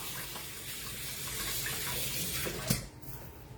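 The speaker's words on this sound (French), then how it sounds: "On se lave les mains, ça va de soi." Tap water runs steadily into a kitchen sink while hands are washed beneath it, a close, continuous splashing hiss with a brief louder splash near the end.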